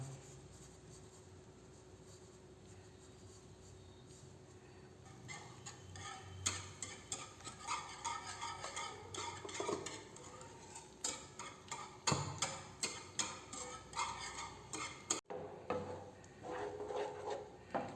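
Rice flour is stirred continuously into Thiruvathirai kali. Faint, irregular scraping and tapping strokes grow busier as the stirring goes on.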